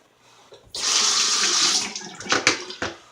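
Running tap water splashes steadily into a sink while lather is rinsed off after face shaving, a loud close rush lasting about a second, then broken splashes and dripping as hands move under the stream.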